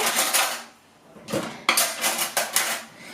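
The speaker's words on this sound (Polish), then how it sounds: "Tutaj dodamy, od razu wymieszamy wszystko" Pancake batter being mixed in a bowl for holey yeast pancakes: a utensil scrapes and clinks repeatedly against the bowl in bursts, fairly close and clear, with a short pause partway through.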